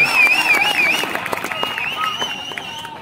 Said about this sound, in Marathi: टाळ्या मित्रांनो, टाळ्या झाल्या पाहिजेत अमरसाठी